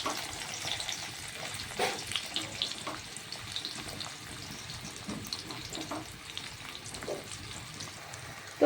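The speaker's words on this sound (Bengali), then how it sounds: "প্রথম আমি পেঁয়াজটা দিয়ে দেব তেলের মধ্যে" Chopped onion sizzles in hot oil in a pan for chili chicken, a soft, steady crackle with scattered pops and faint stirring. It stays fairly quiet throughout.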